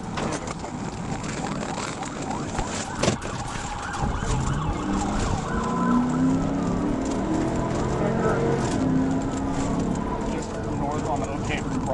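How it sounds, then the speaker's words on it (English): A police patrol car siren wails during a chase, rising and falling over road and engine noise, with a voice talking over it. "The trooper quickly returned to their patrol car, activated the siren"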